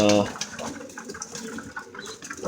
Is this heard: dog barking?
no